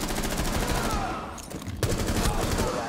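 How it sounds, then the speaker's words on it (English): Sustained automatic gunfire in a video game, loud rapid shots repeating across three seconds with a brief dip in the middle before the firing resumes. "I shot everywhere but him"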